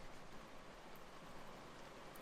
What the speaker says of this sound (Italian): Piove ancora un attimo.